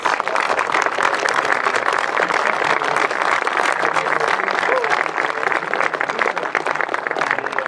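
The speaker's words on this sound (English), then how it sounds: "I think that deserves a round of applause." A crowd applauds at a Utah governor's nuclear energy bill signing and press conference, a loud, dense, continuous roar of clapping that holds steady throughout, with possible voices mixed in underneath.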